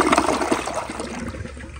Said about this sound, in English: All right, here is more of a close-up flush.